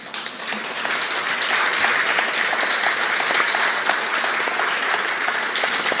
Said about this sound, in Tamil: எல்லோரும் எழுந்து நின்று பலமாக கைத்தட்டுவோம்